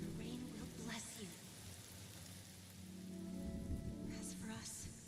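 Steady rain in Penacony from the video game Honkai Star Rail, a continuous wash of falling drops under soft music, with a voice speaking over it in places.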